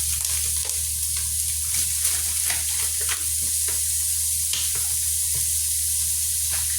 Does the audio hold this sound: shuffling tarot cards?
no